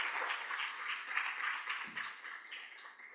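Applause from attendees at a scientific symposium on hypertension management, a continuous, fairly even patter of many hands clapping at moderate distance, slowly thinning toward the end.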